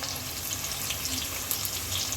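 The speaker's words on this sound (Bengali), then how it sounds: "এখন আমি পেঁয়াজ কুচি দিব, পায়াটা বাগার দিয়ে দিব" Chopped onions fry in hot oil in a pot for mutton paya, giving a steady, dense sizzle with no talk over it.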